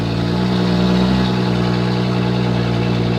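A BMW 435i engine runs at a steady, loud, droning idle with a constant low rumble throughout and no voices.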